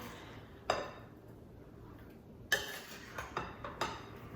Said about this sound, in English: I just want to stir that up. I'm just gonna use this spoon.